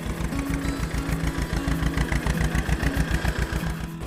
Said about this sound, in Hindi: चंदू अपने मिनी ट्रैक्टर में स्कूल आता था।